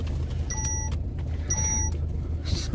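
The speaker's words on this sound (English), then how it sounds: "It's just my car. It's beeping at me." Two short electronic warning beep sequences from a parked car, each a steady tone lasting under half a second, repeating about a second apart over low engine rumble.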